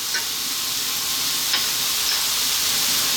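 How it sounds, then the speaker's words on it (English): Garlic ginger paste sizzles and fries steadily in a hot pan for a prawn curry, with a loud, even hiss and occasional faint stirring ticks, close up and without talk. "Next up, I'm going to go with our tablespoon of garlic ginger paste"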